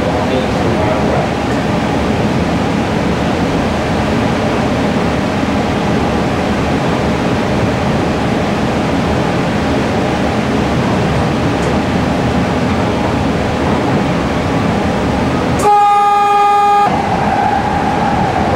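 A 1995 St. Louis MetroLink light rail train ride, a loud steady rumble and roar of the car in motion, broken near the end by a brief tonal chime or signal.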